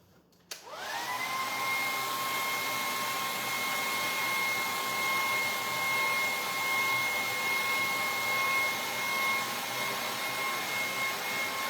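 A heat tool blows steadily to dry stencil paint on a sign, a continuous whooshing hum with a tonal whine that starts abruptly and holds evenly throughout.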